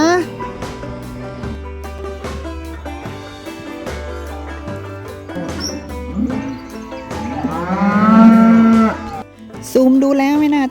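Cows and calves on an Australian cattle farm moo repeatedly, some calls long and drawn out, loud and close, while someone talks over them.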